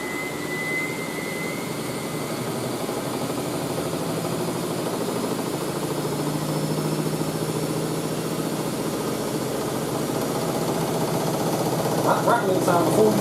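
A Miele W562 Prestige Plus 6 washing machine spinning on a whites cottons 95ºC cycle, slightly unbalanced, gives a steady, loud mechanical whir throughout, with sharper rattling clatter building near the end.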